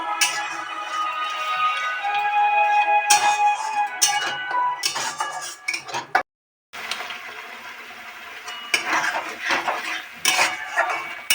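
A metal spoon clatters and scrapes against a pan as spices with turmeric are stirred and fried for a ghugni, the clinks coming in busy bursts with one short pause and no voices.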